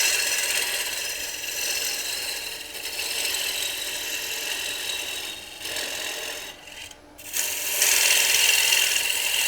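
A gouge cuts into a wooden bowl spinning on a lathe, giving a steady, close rasping hiss that dips briefly near the end and then returns louder.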